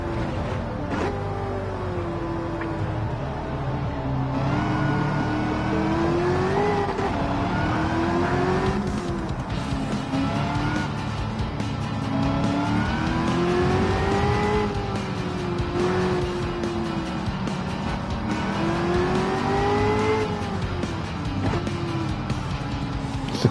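A racing-game car on racing tires, its engine revving steadily up and down through gear changes, loud and continuous, with occasional tire squeal and no talking.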